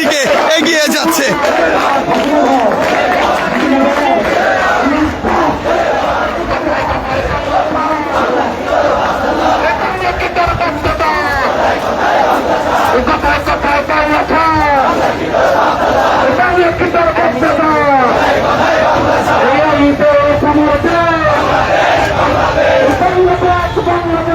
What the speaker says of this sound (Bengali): শিবির বিশাল বিক্ষোভ মিছিল নিয়ে ঢাকা বিশ্ববিদ্যালয়ের